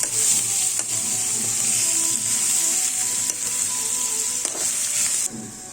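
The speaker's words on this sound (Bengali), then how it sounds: "গাজর সিদ্ধ হওয়া পর্যন্ত নাড়তে থাকবো।" Chopped carrots fry in a pan with a bright, steady sizzle, broken by a few spatula scrapes and knocks, the hiss cutting off abruptly near the end.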